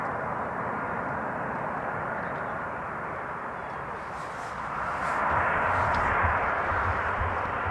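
Boeing 747 arriving on runway 18R at Amsterdam Schiphol, a faint, distant jet rumble that grows slightly louder in the second half, steady with no talk.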